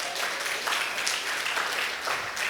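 A church congregation applauds Jesus in a steady, dense wash of clapping that fills the space at a constant level for the whole moment, with no clear voice above it.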